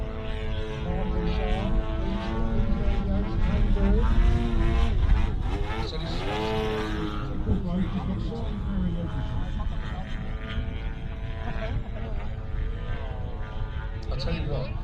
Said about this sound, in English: it's kind of 2 engines, isn't it? Twin-cylinder, very, it'll be a boxer engine.